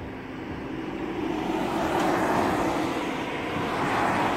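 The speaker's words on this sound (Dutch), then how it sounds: "Het is een geluid van een sportvliegtuigje." A light sport propeller plane drones steadily overhead, its engine noise swelling slightly and holding at a moderate, distant level throughout.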